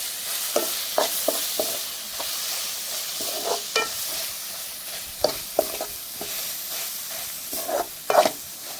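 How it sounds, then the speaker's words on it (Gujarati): A spoon stirs crushed red chili and turmeric into the filling for stuffed bitter gourd, giving close, irregular scraping strokes with short clinks and a faint sizzle underneath, and no talking. "પછી એમાં નાખી દઈએ મરચું ખાંડેલું. એને મિક્સ કરી નાખીએ."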